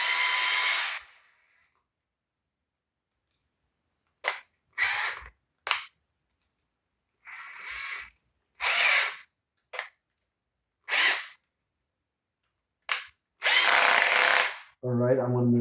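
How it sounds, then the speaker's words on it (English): A power drill with a bit bores a hole in a homemade guitar pedal board, whirring in a series of loud, short bursts separated by silence. A voice is heard briefly at the end. "Take this out, put the drill bit to make a hole."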